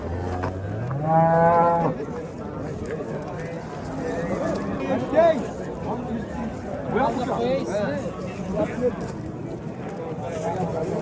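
A cow gives a long, loud moo near the start, then a noisy outdoor crowd of people talks over the rest of the clip at a livestock market in Piskent.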